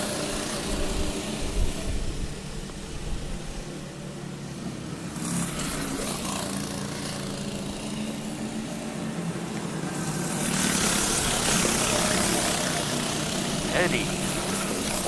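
Go-kart engines racing around a track in the 2005 fall series at Galletta's Go-Karts, a steady buzzing engine drone throughout that swells louder near the end as karts pass close.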